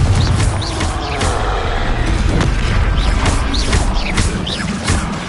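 Confringo spell explosions in Hogwarts Legacy, a dense run of booming blasts and crashing impacts that stays loud and continuous the whole way, with no speech.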